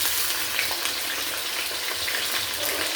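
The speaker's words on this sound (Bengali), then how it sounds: "এখন আমি কেটে রাখা আলুগুলোকে ব্রাউন করে ভেজে নেব।" Cut potatoes frying in hot oil in a wok, giving a steady, dense sizzle that holds evenly and close throughout with no talking.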